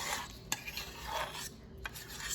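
A spoon stirs a gravy mixture for chicken pot pie in a bowl, giving soft scraping and rubbing with a few light clinks against the side, quiet and close.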